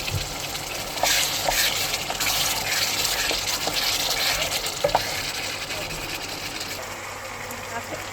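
Rice frying in a pot while being stirred, a steady close hiss and sizzle with scraping stirs running throughout, a few light knocks over the top.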